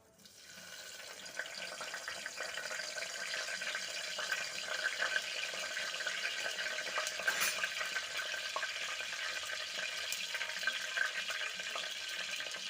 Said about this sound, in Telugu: ఇలా ఆయిల్ హీట్ ఎక్కిన తర్వాత అండి 2 బిర్యానీ ఆకులు వేసుకోవాలండి